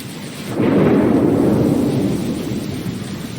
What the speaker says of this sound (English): Your life is in danger because a storm is coming.